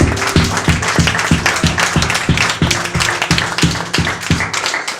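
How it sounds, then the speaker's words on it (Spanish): A church congregation claps together in a steady, even beat, roughly three claps per second. The applause is loud and close, with a dense wash of cheering and crowd noise running underneath. "Dele un aplauso a Dios."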